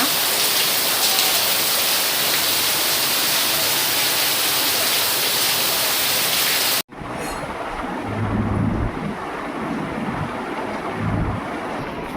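Heavy rain pours down in a dense, steady roar, briefly cutting out before resuming with a deeper rumble beneath the downpour.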